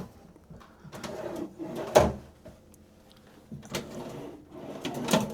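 Hotel room drawers in a Dubai luxury room being slid open and shut, with a series of close wooden knocks and sliding scrapes, one sharp thump standing out, no talking.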